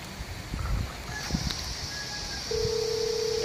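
A telephone line gives off a steady electronic tone that starts partway through and holds to the end, after a few faint background knocks.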